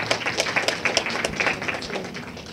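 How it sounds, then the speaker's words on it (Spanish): Scattered clapping from a small audience at a panel discussion, individual claps distinct and uneven, moderately close, thinning out toward the end. "Un aplauso para ella."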